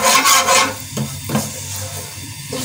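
Bay leaf and cumin stirred in hot oil in a cooking pot, a scraping, rubbing stir with faint sizzle, louder at first and then settling into soft intermittent strokes.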